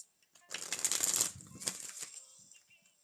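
A deck of cards is shuffled for a reading, a close, crisp riffling flutter lasting about two seconds, then tapering into a few light taps and quiet.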